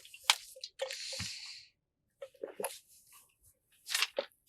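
Someone drinking water in short, close gulps and sips, with wet swallowing and mouth sounds broken by brief pauses, quiet and intimate with no talk.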